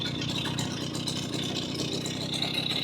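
Garelli 70cc moped engine running steadily in first gear, a continuous mid-pitched putter with a faint rattle, heard close and even throughout with no talking.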